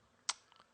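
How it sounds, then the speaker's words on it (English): A computer mouse clicked once or twice in quick succession, a sharp, close, faint tick standing alone in near silence. "just double click on it"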